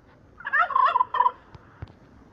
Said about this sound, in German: Der Truthahn.